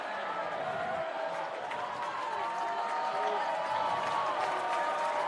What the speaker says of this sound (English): Now the crowd is loud as the Tartans re-enter the court.